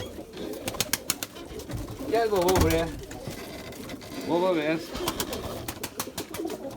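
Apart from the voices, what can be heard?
pigeons cooing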